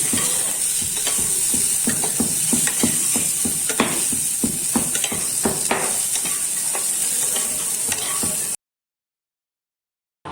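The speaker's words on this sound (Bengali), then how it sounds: "ঘি দিয়ে কাজু কিশমিশটাকে আমি ভেজে নিলাম।" Cashews and raisins fry in hot ghee, a steady loud sizzle with repeated stirring scrapes throughout, then the sound cuts off abruptly near the end.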